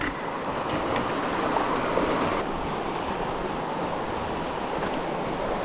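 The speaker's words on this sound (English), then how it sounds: "Looks like a river crossing." River water rushing at a river crossing along Chalk Creek, a steady broadband wash heard up close, slightly louder at first and then easing to an even, continuous flow.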